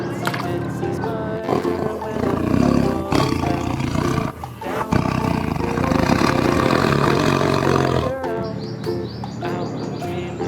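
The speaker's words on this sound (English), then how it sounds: "Tiger, orange and black color tiger." A tiger roars loudly and at length in rough, rumbling waves with a brief dip midway, and faint chirping comes in near the end.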